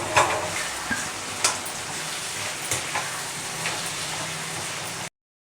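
Chicken pieces for Chicken Manchurian sizzle and fry loudly in a pan while being stirred, a dense crackling hiss with regular scraping knocks of the spoon, then sudden silence.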